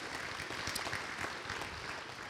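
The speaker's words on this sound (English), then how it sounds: "I really appreciate the applause" Audience applause at an infrastructure summit plenary session comes as a steady, moderate patter of many hands clapping in a large room, sustained without pause and without talk.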